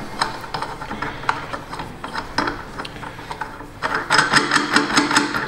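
A nut is spun off the rear bushing bolt of a 2011 Honda Pilot front lower control arm: a close run of fast mechanical ratcheting clicks that comes in uneven bursts and gets louder and denser near the end.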